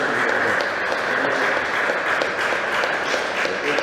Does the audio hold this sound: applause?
yes